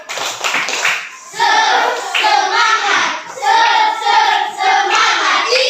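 Schoolchildren in a classroom perform a rhythmic clapping routine called tepuk semangat, with several bursts of fast group claps close by and children's voices mixed in.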